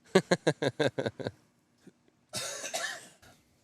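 A rapid burst of about eight short, close coughs, a brief pause, then a longer rough throat-clearing cough.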